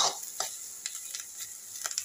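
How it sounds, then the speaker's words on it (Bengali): In a home kitchen, bitter vegetables fry in a pan toward a reddish brown, giving a steady close sizzle broken by several quick scraping strokes of a spatula as the food is stirred. "এই দেখো আমার ভাজা কমপ্লিট, আর একটু লাল লাল করবো"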